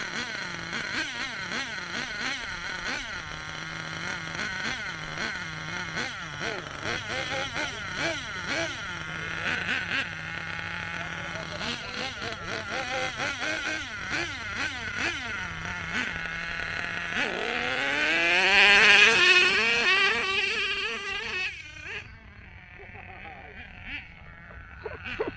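Nitro-powered RC sand rail car engine revving on a sand hill course, its buzzy pitch sweeping up and down repeatedly and climbing to a loud, high rev near the end before cutting off, with voices talking over it.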